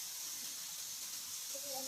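Fast-flowing water at Mt. Maynuba Falls in Rizal gives a steady, faint rushing hiss that holds evenly throughout, with a brief tonal sound near the end.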